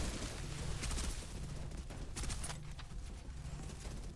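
Rapid bursts of gunfire in the video game Snowbreak: Containment Zone, aimed at an enemy's weapon, crackling steadily throughout at moderate loudness with layered game effects and no talk.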